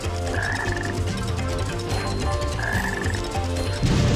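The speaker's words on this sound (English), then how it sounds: "There he is again. That black frog." A black frog croaks in the Sonic Heroes video game, over steady game music with repeated chirping croaks, and no one speaks.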